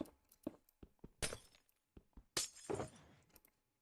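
Purple glass shattering in a video game, a series of sharp crashes and clinks with two loud breaking bursts and scattered smaller shards, close and clear against near silence.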